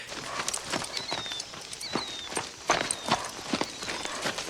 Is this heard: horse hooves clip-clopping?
yes